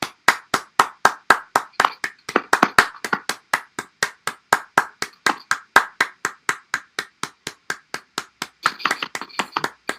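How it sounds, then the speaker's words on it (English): Outdoor neighbourhood clapping in tribute to Captain Tom Moore: a steady, fast run of sharp, evenly spaced hand claps, fairly close and loud, continuing for about ten seconds with no talk over it. "right now, people are outside clapping for Captain Tom Moore"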